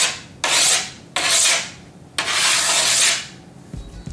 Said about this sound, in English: feel free to go around the edges like this and get all those burrs you created off